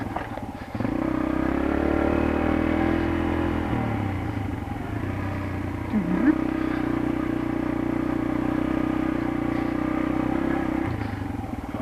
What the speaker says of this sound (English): the TT-R125. It's a really fun bike.